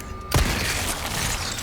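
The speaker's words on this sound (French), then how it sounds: "explosion de tête" Gunshot blowing apart an enemy's head in the video game Resident Evil 4: one sharp loud burst with a wet, splattering crack, trailing into a busy, sustained game soundscape.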